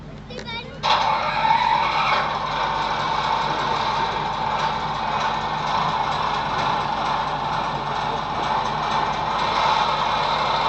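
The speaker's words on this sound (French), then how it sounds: "on a un petit bruiteur qui est sympa quand même de diesel, au plus près" Diesel engine sound module on a radio-controlled work barge at a model boat show, a steady rumbling drone that swells up after a brief start and runs continuously, with people talking nearby.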